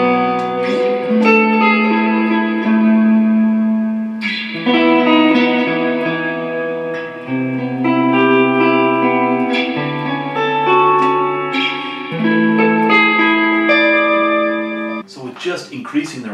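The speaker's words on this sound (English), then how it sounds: "The Accu Spring. It's not a million miles away from the Holy Grail spring. It feels a little brighter, but it's equally cool as a sound." An Electro-Harmonix Cathedral reverb pedal on its Accu Spring setting colours sustained electric guitar chords, which ring out with a bright, shimmering spring-reverb wash and lingering tails between strums. The playing is loud and continuous, with no talking.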